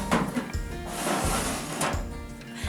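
A makeup storage drawer sliding open or shut, a loud close scraping rumble with a few knocks and rattles of the contents over under three seconds, no talking.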